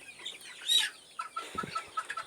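Hens in a hot midday coop cluck in short, soft bursts close by, several birds overlapping in an uneven rhythm, with no talk.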